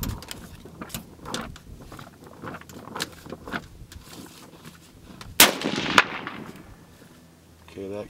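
A single loud rifle shot cracks out midway, from a Savage 110 in .308 firing 168-grain Federal Gold Medal Match at a 100-yard range, preceded by quiet clicks and handling noises.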